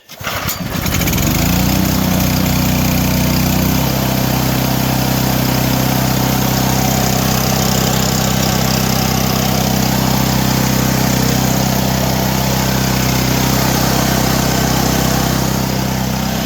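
A portable generator engine starts up after a choke is pulled and settles into a loud, steady running drone, close by and continuous throughout.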